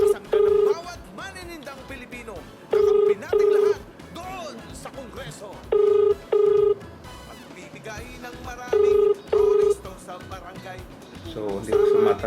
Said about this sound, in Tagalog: So nagre-ring lang po yung telepono niya.